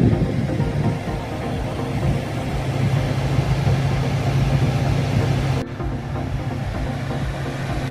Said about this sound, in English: So now we got fan spinning.